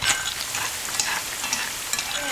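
Meat simmers and sizzles in sauce in a covered pot on medium-low heat, a steady close bubbling hiss with no pauses and no talking.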